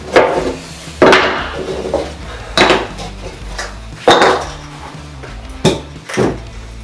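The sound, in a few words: handling a KMC S1 bike chain during installation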